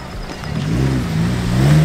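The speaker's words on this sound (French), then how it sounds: "la Corolla de course les amis, avec l'exhaust bord lourd" A Toyota Corolla race car with a loud exhaust revs close by, a deep rising engine roar that builds and holds over about two seconds.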